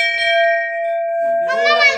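A bell at the Tulja Bhavani temple is struck once and rings out with a clear, sustained metallic tone close by, followed by a brief voice as the ringing fades.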